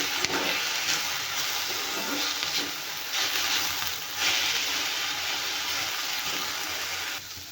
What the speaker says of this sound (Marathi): मेथी छान तेलात परतून घेण्यासाठी मी इथे परत अर्धा पळी घालणार आहे तेल छान पैकी याला टाकून तेलामध्ये भाजून घेऊया